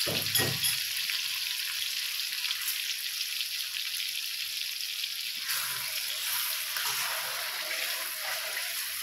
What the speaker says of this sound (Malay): Minyak kita pun dah panas, kita bolehlah masukkan kita punya bahan tumis kita.